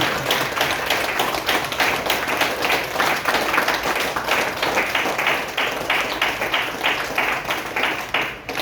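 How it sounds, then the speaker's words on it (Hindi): Sustained applause from an audience at a network marketing business talk, dense steady clapping that continues at an even level for the whole stretch with no talking. "एक जोरदार और शानदार ताली होनी चाहिए सर।"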